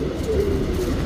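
A Cheeni pigeon coos softly in a low, steady murmur lasting about a second, with no talk over it.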